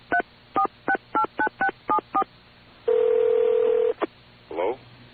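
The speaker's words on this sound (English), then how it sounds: "Let's just dial it back again." A telephone number is dialed with DTMF keypad tones: eight short, evenly spaced beeps in quick succession, then a longer steady tone and a brief final blip, clear and close.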